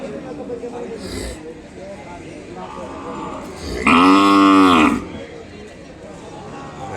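Cattle at Kodad cattle market with calves among them: one loud, drawn-out moo stands out near the middle, over steady crowd murmur and scattered market noise, with people talking throughout.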